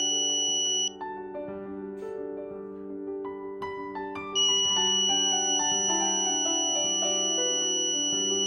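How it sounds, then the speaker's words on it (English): A laser-triggered Arduino security alarm sounds a steady electronic tone continuously, stepping up in pitch and growing louder partway through, like a buzzing alarm that keeps going without a break. "triggering an alarm"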